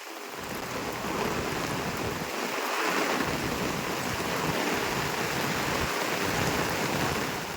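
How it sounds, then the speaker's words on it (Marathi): Continuous heavy roaring wash of monsoon rain pouring down in a Konkan village, dense and unbroken, with gusty rumbling at the low end. "अचानक आलो पाऊस, जबरदस्त कोसळलो आहे"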